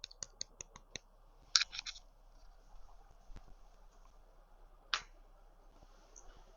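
Crunchy crust of a freshly baked Québec tourtière being tested, giving a few sharp, close crackles and taps at the start, then another crisp snap later, all fairly quiet with no talking.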